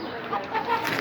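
A chicken at a 4-H broiler weigh-in clucks in short, close bursts over a busy background of barn noise and movement, loudness rising and falling across the brief moment.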